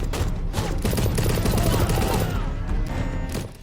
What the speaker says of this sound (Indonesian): Terjadilah baku tembak sengit.